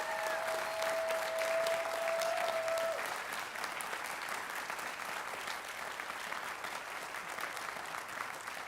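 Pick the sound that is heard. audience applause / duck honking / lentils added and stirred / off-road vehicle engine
audience applause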